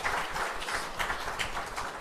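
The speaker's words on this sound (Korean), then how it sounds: "우리 박수 한번 해주시죠" A church congregation breaks into applause during a sermon, a steady wash of many hands clapping at once for about two seconds, fairly loud and even, with no talk over it.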